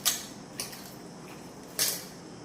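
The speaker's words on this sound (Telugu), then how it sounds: "ఒక 3 స్పూన్లు అల్లం వెల్లిపాయ వేసిన ఇలా చిన్న స్పూన్ తోటి" A small spoon clinks against a steel vessel while scooping ginger garlic paste for a chicken curry, three light metallic taps spaced apart over quiet background.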